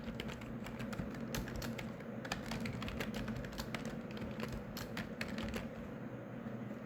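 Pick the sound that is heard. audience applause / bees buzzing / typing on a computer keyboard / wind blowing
typing on a computer keyboard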